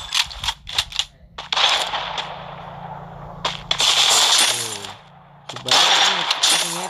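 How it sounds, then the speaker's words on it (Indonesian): Gunfire in the mobile shooter game Free Fire: sharp shots crack out in quick irregular clusters, some close together and some spaced apart, over a low background hum. "Gila, ini nembaknya sembarangan atau headshot nih kayaknya Ji"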